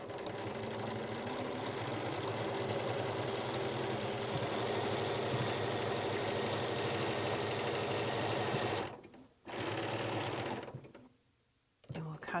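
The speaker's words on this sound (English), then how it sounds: "We put it back under our sewing machine, and I'll put my needle up, and we'll stitch." A sewing machine runs steadily for about nine seconds, stitching a scant quarter-inch seam on quilt binding. It then stops, gives a short burst and falls quiet near the end.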